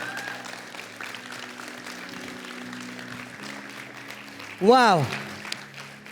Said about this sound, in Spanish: Dale ese aplauso más fuerte al Rey